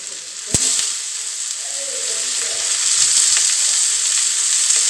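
Onions fry in a pan as tomato goes in, a loud, steady hiss of sizzling with a sharp clank near the start and faint scraping stirs.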